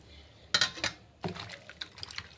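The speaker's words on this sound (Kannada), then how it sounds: "ಅದಕ್ಕೆ ನೀರು ಹಾಕಿ" Water splashes into a vessel holding chicken pieces in a home kitchen: two sharp bursts of pouring followed by a longer splashing stretch and scattered drips, close and moderately loud.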